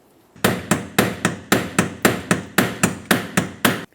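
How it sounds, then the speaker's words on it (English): A hammer drives a small pry bar against the fuel pump lock ring of a 1994-2002 Dodge Ram 2500, thirteen sharp metallic blows in an even rhythm, loud and close. "What you could do is continue on with a small pry bar and a hammer and just give it a couple loving bonks"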